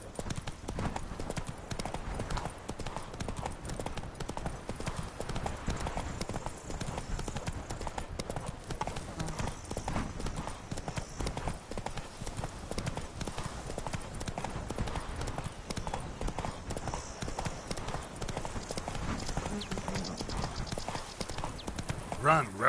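Geralt's horse Roach gallops in The Witcher 3, her hooves drumming in a fast, continuous clip-clop rhythm from start to finish, close and steady, while a voice speaks over the pounding.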